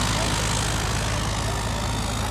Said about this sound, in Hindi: दूसरा राउंड लेके चल पड़े भाई ट्रैक्टर।